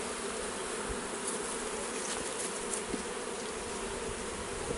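Bees in a hive in Jamaica give off a dense, steady buzzing drone that holds at an even level throughout, with no voices over it.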